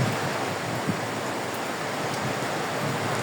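Heavy rain driven by strong wind, a broad steady hiss and rush at moderate level, constant throughout with no speech.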